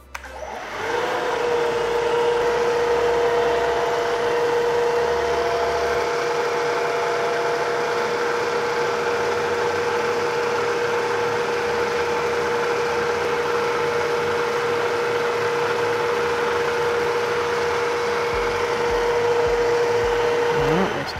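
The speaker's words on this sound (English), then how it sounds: "we're gonna mill a little V-groove in here for the axles to lay in" A milling machine cutting a V-groove into steel for axles at high RPM, giving a loud, steady whine with a sustained tonal hum that runs unbroken for about twenty seconds.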